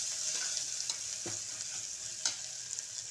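Spices for a prawn dish roast in a pan, a soft steady sizzle with a few light stirring scrapes and taps, fairly quiet and even throughout.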